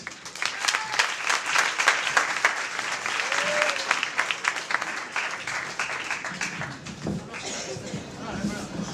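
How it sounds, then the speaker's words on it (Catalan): Loud, sustained applause from a sizable crowd at the Casino de Tarragona before a comedy monologue, dense clapping that fades slightly toward the end as a voice begins. "Donem un fort aplaudiment, sisplau, al Francesc!"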